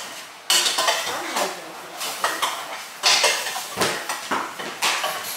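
Pots, pans and cutlery clatter and clank in repeated bursts while pasta is being cooked at home, close and fairly loud, with short pauses between the knocks and scrapes.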